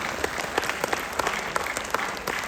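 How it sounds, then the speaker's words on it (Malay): An audience at a business opportunity event claps for a guest, a steady wash of applause with sharper individual claps standing out, moderately close. "Bagi tepukan untuk Kedai Tektan."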